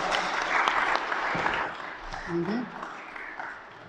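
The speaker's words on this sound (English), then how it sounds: "So let's give a round of applause." A church congregation applauds a large collection of donated food for a soup kitchen, a short burst of moderate clapping with a brief voice or murmur mixed in as the noise thins.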